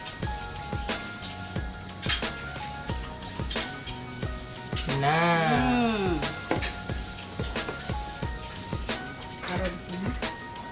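Breaded pineapple slices sizzle and crackle as they fry in hot oil, a steady hiss beneath clattering utensils and a pan, while people talk in between.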